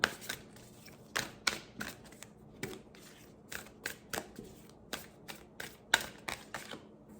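Oracle cards are shuffled by hand in a quiet room, giving a string of crisp riffling flutters and soft taps in an irregular rhythm, close and clear with no talking.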